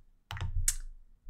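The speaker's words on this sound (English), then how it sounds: "So in this form, I can start typing in an email address." A few quick keystrokes clack on a computer keyboard while an email address is typed into a form, close and crisp with a couple of rapid taps and a brief pause.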